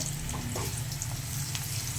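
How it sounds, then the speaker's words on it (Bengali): Potatoes frying in oil in a kadai for a chicken dish make a steady, close sizzle with a soft, continuous crackle throughout and no voices. "প্রথমে আমি কড়াইতে তেল দেব, আর তেল দেওয়ার পরে আলুটাকে ভালো করে লাল লাল করে ভেজে নেব।"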